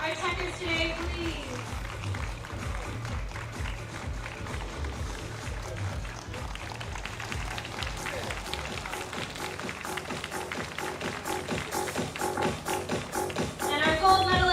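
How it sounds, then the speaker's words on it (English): A crowd applauds the medalists at the Teqball Tour finals in Koh Samui. The clapping is dense and continuous, mixed with other background sound, and swells louder toward the end. "Round of applause for our checkers today, please."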